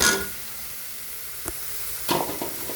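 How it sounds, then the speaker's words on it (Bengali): Bottle gourd peels going into a hot pan with spices and being stirred, giving a soft, steady sizzle with a burst at the start, a sharp scrape near the middle and another stirring rustle toward the end. "এখন আমি দিয়ে দেব লাউ চামড়াগুলো"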